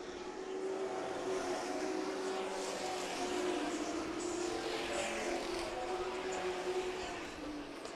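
Northwest Tour race trucks lapping Meridian Speedway during the 2019 Diamond Cup, a sustained distant engine drone with a steady pitched hum that swells slightly and holds for the whole stretch.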